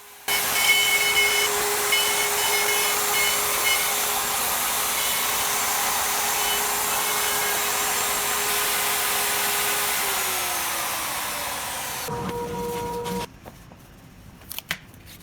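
Handheld router with a guide bushing cutting an inlay template on a sled, a steady close whine running for about twelve seconds before winding down and stopping.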